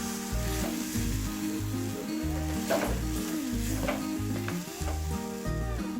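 Turmeric, Kashmiri chili, black pepper and coriander powders sautéing in coconut oil for a shark curry, a steady sizzle with repeated stirring scrapes throughout and rhythmic background music underneath.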